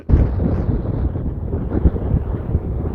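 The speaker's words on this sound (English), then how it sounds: "So windy." Strong wind buffets the microphone outdoors on a snowy walk in a loud, continuous low rumble that surges and eases without pause.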